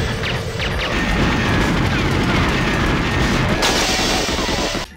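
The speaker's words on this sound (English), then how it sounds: "everything has a fiery explosion," Explosions and smashing objects from the Nintendo 64 shooter GoldenEye 007 crash and rumble continuously at high volume, with dense gunfire-like bursts and debris noise overlapping throughout.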